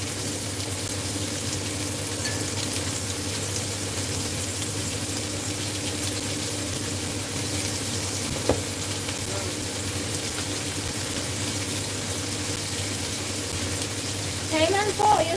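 Butter in a hot pan with oyster sauce in a home kitchen: a steady, soft, hissing sizzle running throughout, with a few faint clinks near the end.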